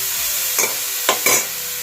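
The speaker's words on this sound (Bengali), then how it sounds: "আমি একটুখানি প্রথমে এটাকে ঘিয়েতে নেড়ে নিই" Grated carrots stirred in hot ghee for gajar halwa: a steady sizzle hiss broken by three short scraping strokes of a spoon against the pan.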